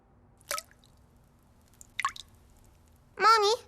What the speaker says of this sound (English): the tap is dripping